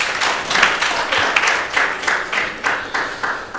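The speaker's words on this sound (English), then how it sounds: "Let's give them a round of applause for that." A small audience applauds a signed-book presentation at an executive dialogue event, the clapping close and lively with rhythmic, uneven bursts throughout.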